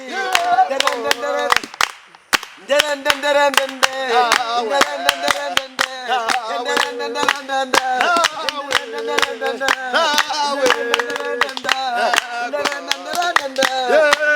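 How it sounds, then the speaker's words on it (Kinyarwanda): A crowd claps rhythmically in steady, repeated bursts that run alongside loud singing voices throughout. "muyikomera amashyi"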